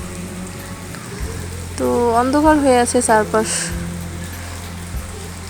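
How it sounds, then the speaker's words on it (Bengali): Steady rain falls on a dark morning, a constant, even hiss that runs through the whole clip while someone talks over it. "এখন সকালবেলা উঠে দেখি যে তারপরও বৃষ্টি হইতেছে"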